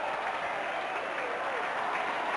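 Football crowd at a North vs South match in 2006 cheers after a goal kick, a steady broad roar of many voices with applause-like texture, sustained and fairly distant throughout.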